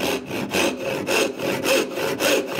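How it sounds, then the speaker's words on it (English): A hand saw cuts kerfs into a wooden tenon for a fox wedge joint, loud close rasping strokes in a steady back-and-forth rhythm of about five passes, with no talking. "I'm going to put two saw kerfs in here"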